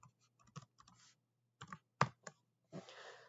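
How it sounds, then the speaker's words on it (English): Scattered clicks of keys being pressed on a computer keyboard, in short irregular bursts with pauses, close and fairly quiet. "as I was typing this up"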